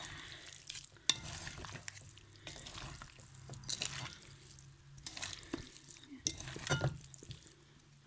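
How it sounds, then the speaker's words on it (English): A pot mixture being stirred again during cooking, soft intermittent scraping and clinking of a utensil over a low sizzle, with scattered brief knocks and quiet handling noises. "Mix it again."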